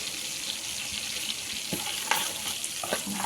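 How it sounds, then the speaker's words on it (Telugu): Cumin seeds fry in hot oil for a spinach paneer curry, a soft steady sizzle with faint crackles and a few light clinks of a spoon, close and unaccompanied by voices. "ఇలా జీరా ఫ్రై అయ్యాక"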